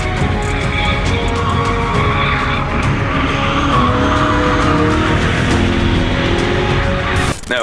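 A powerful Fast and Furious stunt car revs hard at Mondello Park while tires squeal continuously through a drift, the screech wavering as the throttle rises and falls.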